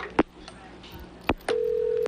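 Telephone line connecting during live tornado coverage, with a few sharp clicks followed by a steady electronic tone lasting about half a second, close and fairly loud.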